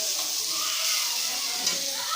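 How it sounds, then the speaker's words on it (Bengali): Onions frying in a pan for a koi fish and egg bhuna, a steady, even sizzle up close with no voices and only a faint click near the end. "এই যে প্রথম দিয়ে পেঁয়াজ দিয়ে দিচ্ছি কতগুলো। এরপর এখানে একটু ভাজি ভাজি করুন"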